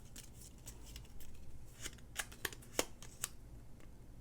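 Tarot answer cards are shuffled and drawn close by, a faint soft riffling broken by a few sharp, crisp snaps.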